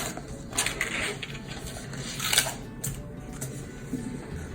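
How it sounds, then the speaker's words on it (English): Scissors or a blade cut through cardboard to make small keyboard buttons for a DIY cardboard laptop, giving a run of close, scratchy crunching snips in irregular bursts with no talking. "Actually, we're cutting the keyboard buttons."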